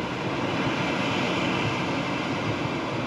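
Pilatus PC-24 jet engines spool at takeoff power, a dense, steady roar filling the cabin for a few seconds with no voices over it.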